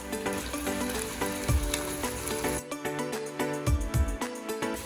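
Ginger garlic paste sizzles and fries in a pan for chicken fried rice, a continuous close crackle with occasional stirring knocks and scrapes.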